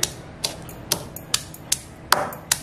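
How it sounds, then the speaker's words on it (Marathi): Garlic is crushed in a mortar and pestle, with seven crisp, evenly spaced knocks about half a second apart, close and distinct against a quiet background. "लसूण आहे, लसूण पण आपण आता वाटून घेऊया।"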